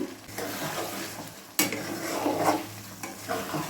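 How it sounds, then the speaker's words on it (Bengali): Mutton being sautéed for kosha with small splashes of stock in a home kitchen pan, bubbling sizzle under repeated spoon stirs and occasional metal clinks against the pot, close and continuous. "আবারও একবার স্টকটা দিয়ে মাংসটা কষিয়ে নেব"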